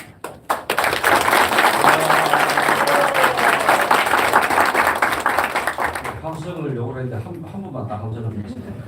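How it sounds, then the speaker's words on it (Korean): Applause and cheering from the crowd at a Korean union federation's founding assembly, loud and dense for about six seconds, then tapering off as a voice begins speaking over the fading claps. "모든 분들의 힘찬 박수와 함성으로 시작하겠습니다"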